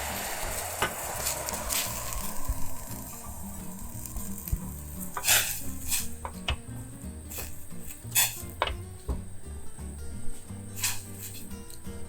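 Pork belly and liver go into a pot of boiling water for homemade cat food. Steady bubbling and sizzling run throughout, broken by clinks and scrapes of utensils against the pot, with no talking.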